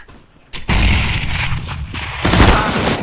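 A video game grenade blast erupts with a loud, sudden boom that rolls into a sustained rumble of explosion and gunfire-like debris, with a second heavy burst near the end, and no talking over it.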